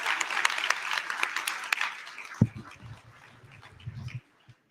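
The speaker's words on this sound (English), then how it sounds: "Let's give them a round of applause for sure." Audience applause at a multi-faith solidarity gathering, a dense burst of clapping that thins into scattered claps and fades out, with a few low thumps near the end.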